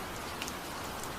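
Steady rain falls, a continuous soft hiss of drops pattering on a surface with no other sounds.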